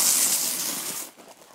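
Garden hose spraying water onto patio mats, a loud close hiss that cuts off suddenly after about a second, leaving quieter splashing.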